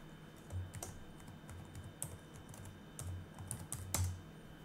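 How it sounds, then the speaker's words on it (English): Keys clatter on a computer keyboard while a password is typed at a login prompt, with quiet scattered taps and a few sharper strokes spread across the stretch, no voices. "So maybe I'm just typing the wrong password."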